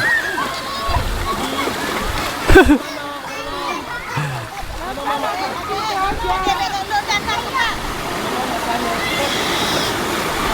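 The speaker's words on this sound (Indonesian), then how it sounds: "Rifki senangnya mandi air laut" People bathing in calm sea water at a beach among coral, with steady splashing and sloshing, one sharper splash near the start, and children and adults chattering throughout.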